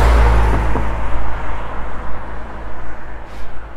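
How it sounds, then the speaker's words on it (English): A car passes on a quiet, remote road in the Australian countryside, a loud, close engine rush at the start that fades quickly into open outdoor air. "Sometimes cars come, but not very often."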